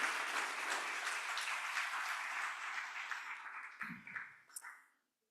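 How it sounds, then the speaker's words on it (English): Applause from an audience cheering students at the closing of a health conference, a dense steady clapping that fills the hall and then thins and dies away near the end, with a few last scattered claps. "An applause to our students."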